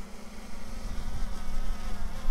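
A DJI Mini 3 Pro drone flies outdoors, giving a steady, buzzing, insect-like propeller whine that is constant and fairly loud throughout, with no talking.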